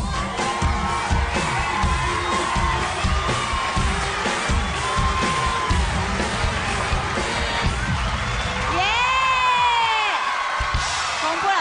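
A studio audience at a televised singing contest applauds and cheers, a dense loud roar of clapping and whoops with voices and shouts rising through it.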